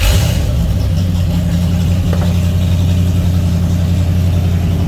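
V8 engine of a Nissan Patrol firing up and settling into a loud, steady idle with a deep, rough low hum, close and continuous with no voices.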